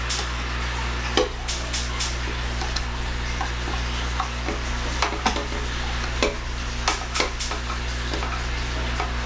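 Caramel sauce being stirred by hand into a turtle pie filling with powdered sugar, giving a soft, steady scraping and swishing with occasional sharper taps against the bowl, close and moderately quiet over a constant low hum.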